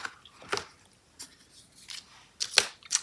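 Scissors snip through paper strips while an Easter basket is being trimmed, giving a few short, close crisp cuts, with a brighter cluster of snips near the end.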